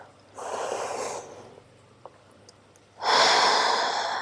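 Two long, breathy exhales during a slow yoga flow, close and soft, separated by a quiet pause with no speech.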